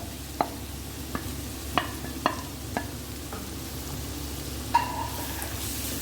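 Chopped onions sauté in coconut oil in a pan for a chicken masala, with a steady soft sizzle under a series of sharp spoon scrapes and taps against the pan, each one distinct and close.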